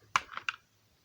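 Three quick bursts of key presses on a GK61 mechanical keyboard fitted with Gateron optical black switches, close and crisp, followed by silence.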